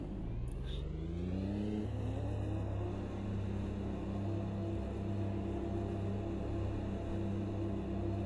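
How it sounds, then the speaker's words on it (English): A car engine in the racing game Automobilista 2 revs up with rising pitch, then holds a steady, droning mid-range roar throughout, loud and continuous. "Let me know if you can hear the old engine revs."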